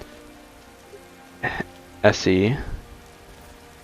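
Steady rain falls in the game Skyrim Special Edition, a soft continuous patter throughout, briefly overlaid by someone talking.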